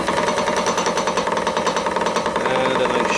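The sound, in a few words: roughing gouge cutting wood on a lathe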